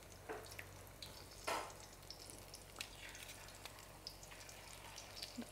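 Gluten-free vegan pakoras frying in hot oil make a soft, steady sizzle with scattered small pops and crackles, fairly quiet and without talk.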